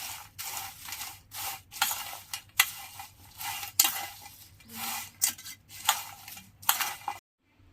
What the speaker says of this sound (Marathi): थोडीशी लाल मिरची पावडर, त्याला मस्तपैकी आपण मिक्स करून घेऊ